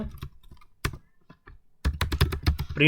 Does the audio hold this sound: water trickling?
no